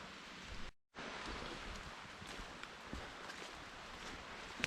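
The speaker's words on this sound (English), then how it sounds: "it's like still raining, as you probably can tell" Rain falls steadily in a Scottish forest by a hidden temple, a soft continuous hiss with scattered faint drips, briefly cut out once near the start, no voices.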